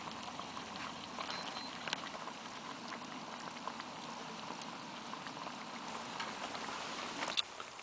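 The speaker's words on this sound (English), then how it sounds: "just cooking it on top of the gas single burner" Food bubbles and sizzles in a pot on a single gas burner under a tarp at a forest wild camp. The simmering is faint and steady, with soft patter and crackle and no talk.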